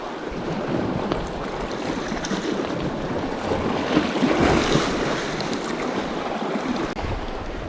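Wind howls across a rocky, boulder-strewn coast during bass fishing, a loud, continuous rushing roar mixed with surf that swells slightly midway.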